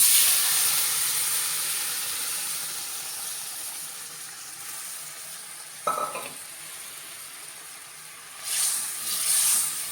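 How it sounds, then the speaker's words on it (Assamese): Curry of taro, jackfruit seeds and lentils simmering in a pot, a soft continuous bubbling hiss with a brief clatter midway and a louder sizzling surge toward the end, no voices. "তৰকাৰীখন ধুনীয়াকৈ উতলি আছে।"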